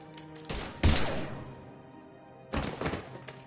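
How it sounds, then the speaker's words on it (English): Gunfire in the video game Mass Effect 3 rings out as a heavy thudding volley and a sharp bang, then a decaying tail before a second burst of shots, fairly loud with no talk. "Now open fire!"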